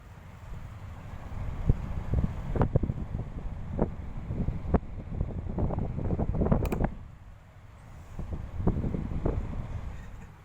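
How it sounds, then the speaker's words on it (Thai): An air conditioner runs with a steady low whooshing drone in a room, interrupted by occasional rustling and handling knocks close to the microphone. "ให้ฟังเสียงแอร์กัน"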